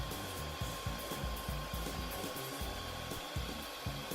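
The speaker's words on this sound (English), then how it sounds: "We're going to keep heating along the way to loosen that adhesive strip." A heat gun warms an Allure luxury vinyl floor plank to loosen its adhesive strip, producing a steady blowing hiss and hum with a soft repeating low rumble underneath.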